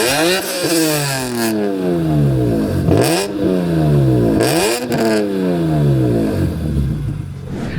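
BMW E46 fitted with M3 E46 body parts, individual throttle bodies on every cylinder and a modified exhaust, revving hard in repeated loud sweeps that rise and drop sharply, with a few quick blips in between.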